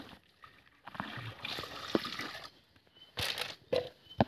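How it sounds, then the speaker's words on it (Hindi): Water is poured into a pan holding children's clothes, giving irregular splashing and sloshing bursts with short pauses between them. The sound is fairly close and soft. "तो इसी में थोड़ा पानी डाल के देखते हैं।"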